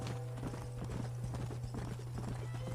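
Horse hooves clip-clop steadily at a brisk pace in the Red Dead Redemption video game. The rhythmic beats continue throughout over a steady low hum.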